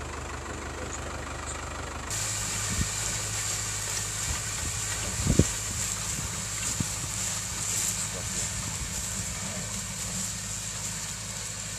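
A tractor pulling a medium-duty seed drill through a field with thick crop residue: a steady mid-pitched engine drone with some knocking, a louder change partway through, and a few clunks, heard close.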